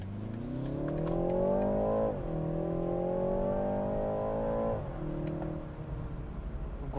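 A 2021 BMW 330i four-cylinder accelerates hard in manual sport mode, its engine note climbing steadily, dropping briefly at an upshift, climbing again, then easing off after another shift, loud and close from inside the cabin.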